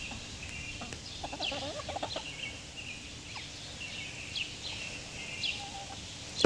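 Pet chickens cluck and chirp in short scattered calls throughout, fairly faint over a steady outdoor background hiss, with no talking.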